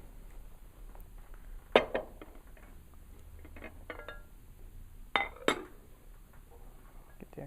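A glass oven dish holding a pork roast is handled in a kitchen, giving a few sharp clinks and knocks over a quiet background, with two louder clinks standing out.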